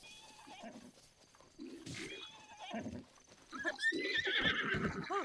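A black horse in The Legend of Zelda: Breath of the Wild whinnies loudly, with a shrill rising neigh, while hooves clop along beneath it, all close and clear.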